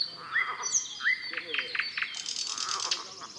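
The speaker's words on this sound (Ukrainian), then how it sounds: "Послухайте, друзі, як співає солове" A nightingale sings outdoors on a spring fishing trip: varied whistles and rapid chirping trills, moderately faint, over a soft hiss of insects and a quiet background.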